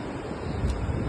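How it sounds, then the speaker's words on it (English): Surf at Morgan Bay Beach crashes against a cliff face across the water, a dense, roaring wash mixed with wind noise over a short stretch, with no voices. "the waves crashing against that cliff face over on the other side there, it's just stunning"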